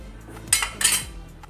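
A spoon clinks twice against a pan, quick metallic taps close by, as chaat masala goes in for a white chickpea curry; no talk.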